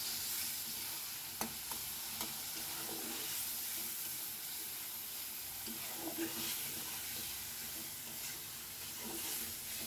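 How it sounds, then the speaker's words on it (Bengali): Carrots and noodles frying in a pan for a pasta-noodle snack, a low continuous sizzle and hiss broken by occasional scrapes and clinks of stirring. "এটা কিছুক্ষণ ভেজে নিব।"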